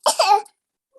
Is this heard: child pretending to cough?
yes